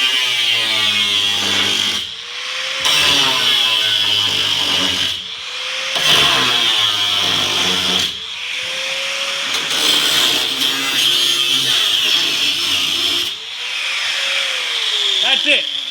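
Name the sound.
power tool cutting into steel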